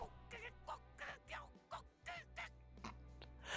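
A voice actor imitates chickens in Limbus Company, producing a rapid series of squawky, clucking bursts about two or three per second, fairly quiet over a low background hum.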